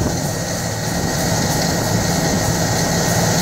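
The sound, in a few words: old hammer mill grinding feed for cattle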